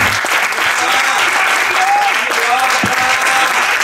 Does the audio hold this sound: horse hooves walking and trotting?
no